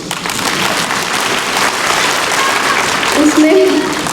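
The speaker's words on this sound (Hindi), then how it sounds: "उसके लिए आप ताली बजा सकते हैं" A crowd claps together at an Independence Day celebration, a dense, sustained patter of applause heard up close, with some faint voices mixed in.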